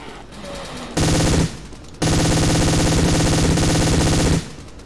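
Shots from a K98 bolt-action rifle in the World War II dinosaur shooter Dino D-Day, with two loud bursts close up: a short blast followed by a longer sustained stretch of firing.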